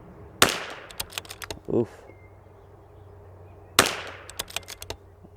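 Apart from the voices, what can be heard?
22LR ELEY match ammunition rifle shots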